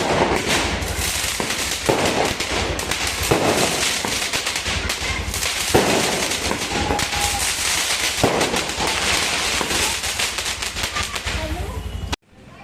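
Firecrackers burst in a residential colony, sounding as a long, dense string of sharp cracks and pops that rattle on almost without pause, loud and close.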